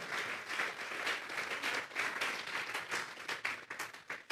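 A church congregation applauds together, a dense, lively burst of clapping that keeps going throughout and thins a little toward the end.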